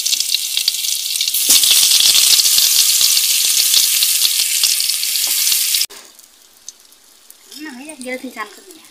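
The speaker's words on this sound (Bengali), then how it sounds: "বন্ধুরা এবারে বেগুন ভাজা কড়াই দেওয়া হচ্ছে।" Eggplant slices fry in a wok with a loud, steady sizzle and crackle for most of the clip, then the frying drops away to a quieter kitchen background where a voice speaks near the end.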